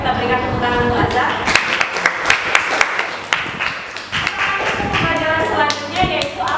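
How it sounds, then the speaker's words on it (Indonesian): Ninth-grade classroom applause, with scattered sharp individual claps and taps, uneven and fairly close, running for several seconds. "Ayo kita berikan tepuk tangan untuk Azhar."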